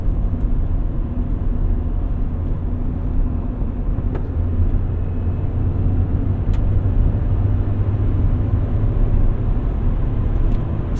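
A 2000 Honda Prelude driving, its engine droning steadily under a constant low road rumble, with a few brief shifts and blips in pitch and no talking.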